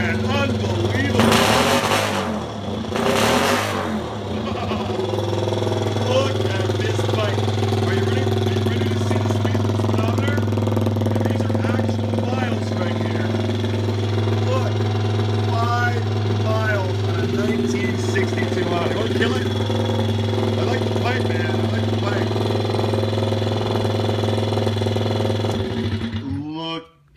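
Factory-original 1962 Honda motorcycle engine idling, a steady low mechanical hum with a small single-cylinder character, constant throughout at moderate level while people talk nearby over it.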